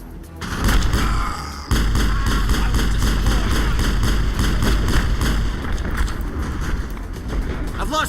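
Shotgun blasts and combat noise from the game Mass Effect 1 pound along steadily for several seconds, a loud, busy barrage with heavy low thumps over a layered background.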